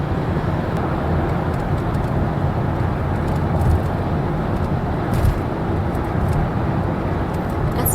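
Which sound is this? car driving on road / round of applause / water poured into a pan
car driving on road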